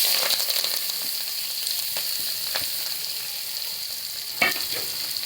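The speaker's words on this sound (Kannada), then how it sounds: "ಇದನ್ನ ಸಣ್ಣಾಗಿ ಫ್ರೈ ಮಾಡ್ಕೋಬೇಕು" Onion, mustard seeds and curry leaves frying in a pan for a pepper onion rice dish, a loud continuous sizzle with occasional scraping stirs and one stronger clatter near the end.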